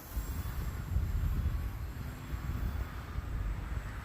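A radio-controlled model airplane flies overhead, a faint steady engine drone that swells slightly and fades over low wind rumble, with no talk.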